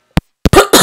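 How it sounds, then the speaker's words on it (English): A couple of short, sharp coughs close by, followed by a harsher throaty burst. "Hold on, I need to cough."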